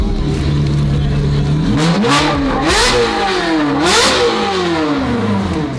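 A twin-turbo Ferrari F12 with a 1,300 whp carbon widebody build revs hard up close, its engine note climbing and falling through several loud rising and dropping sweeps with no talk over it.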